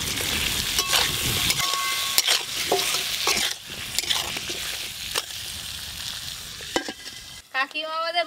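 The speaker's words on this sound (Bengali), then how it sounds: "ওই একই তেলে মাছের জন্য আলুগুলো লাল লাল করে ভাজবো।" Potatoes for a fish curry fry in oil in a pan, a steady crackling sizzle with stirring scrapes and utensil clinks throughout, close and fairly loud, no talking.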